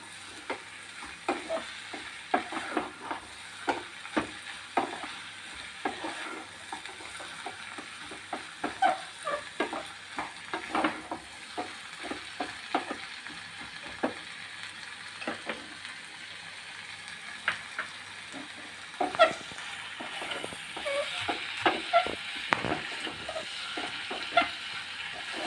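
Food fries in a pan with salt and turmeric powder while being stirred: a steady soft sizzle under frequent scraping, clattering stirs in an uneven rhythm, with no talking.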